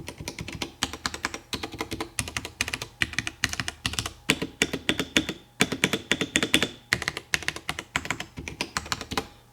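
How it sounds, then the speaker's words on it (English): Keys clack steadily on a Royal Kludge RK96 mechanical keyboard, a fast, even run of crisp close-up keystrokes with no talking. "The sound profile from the RK96 is actually pretty good for the price. So you can hear, if I go across the keys,"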